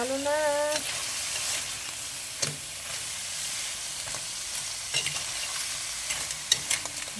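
Crab with ginger sauce and a little water is stirred in a pan, giving a continuous sizzle and hiss with occasional scrapes and clicks of the utensil; a voice briefly opens the clip.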